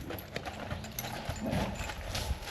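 Horse hooves clip-clop on the ground in an uneven run of knocks, close and fairly clear, with faint background noise and no talk.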